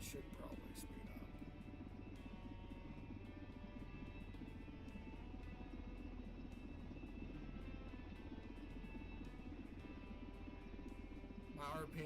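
A helicopter in the video game SimplePlanes hums with a steady rotor and engine drone, faint and continuous throughout, with a few brief clicks near the start and end.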